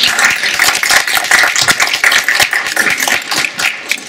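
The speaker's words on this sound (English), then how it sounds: "I think we owe them a round of applause" Audience clapping after a knee replacement lecture held at a hospital, a fairly small group with distinct, uneven claps close by, thinning slightly toward the end.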